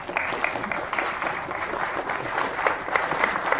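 A lecture audience applauds a talk by Jiddu Krishnamurti: sustained, fairly loud clapping from many hands, continuous with slight swells and sharper individual claps, with no speech.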